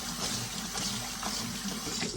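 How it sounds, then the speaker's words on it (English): Cold tap water pours steadily over noodles in a kitchen strainer, a continuous splashing hiss with small bubbling fluctuations, close and alone without talk. "You can also add like a little bit of cold water to it."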